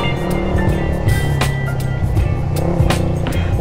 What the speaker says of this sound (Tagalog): okay na yung motor natin, tahimik na